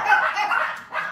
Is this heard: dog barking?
yes